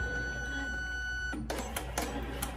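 A Melco EMT16X embroidery machine starts stitching thick vinyl after a steady background hum, giving a run of quick, rhythmic mechanical taps at moderate, close volume.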